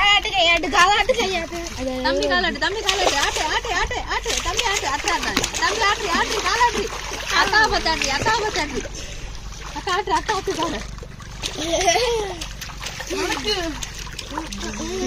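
Children splash and swim in water, with continuous splashing and sloshing throughout while children's and adults' voices talk and call out over it.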